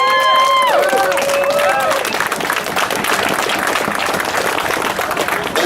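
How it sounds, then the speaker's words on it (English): Crowd at a Boston free speech rally applauding, steady clapping mixed with scattered cheers and crowd noise, carrying on under a brief electronic tone at the start. "I want you to give them a round of applause."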